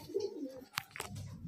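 Red-headed Kalshira pigeons give soft, low coos close by, with a couple of sharp clicks or taps breaking in partway through the brief stretch.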